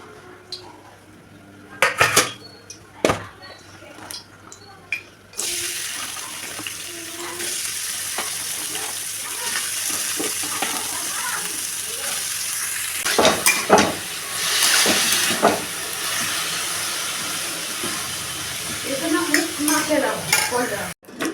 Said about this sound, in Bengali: কড়াইতে তেল নিয়ে দিয়েছি এরপর এই সবজিগুলো দিয়ে দেবো